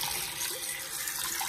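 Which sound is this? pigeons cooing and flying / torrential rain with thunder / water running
water running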